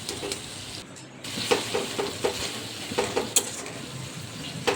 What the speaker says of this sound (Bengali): এবার টমেটোটা যতক্ষণ না গলে যাচ্ছে ততক্ষণ কিন্তু নাড়তে হবে।